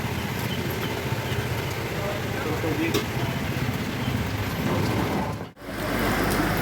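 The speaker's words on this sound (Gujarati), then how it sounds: "વરસાદ ચાલુ થઈ ગયો છે" Steady rain falls throughout, a dense and even hiss of drops spattering on surfaces at close range. There is no talk, and near the end the sound cuts out briefly.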